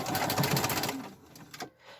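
A sewing machine running a straight stitch along a marked line on fabric with white thread, a fast close mechanical whir for about a second before stopping, with faint clicks after.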